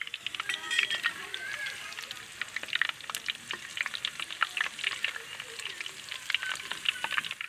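Sliced okra browning in ghee for crispy bhindi crackles with a busy, dense sizzle and spitting pops close by, and a voice is heard at times underneath.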